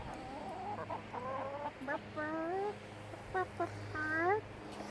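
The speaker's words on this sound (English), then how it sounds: "All right, Tiffany, that's enough chicken time." Chickens cluck nearby in a run of short, rising calls and clucks that come in bursts over a steady low hum.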